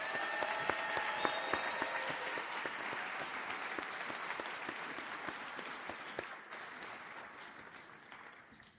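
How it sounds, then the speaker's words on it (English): An audience at a physical therapy white coat ceremony applauds with a broad, sustained wash of clapping from many hands, steady at first and then tapering slightly toward the end. "Let's give them all a round of applause."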